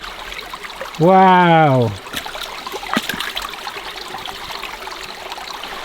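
A river flows steadily outdoors at night, its constant rushing hiss continuing throughout while a voice briefly exclaims near the start.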